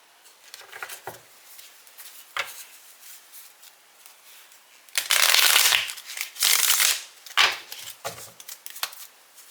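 Tarot cards being shuffled by hand in bursts of crisp riffling and soft pattering, close and fairly quiet, with louder rapid riffles midway and pauses between.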